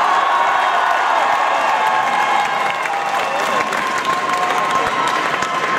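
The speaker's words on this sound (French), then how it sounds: "On les applaudit," Sustained crowd applause with scattered cheers fills a hall for costumed cosplayers dressed as Ganondorf, Link and Zelda from Twilight Princess at a Japan Expo cosplay contest, steady and loud throughout.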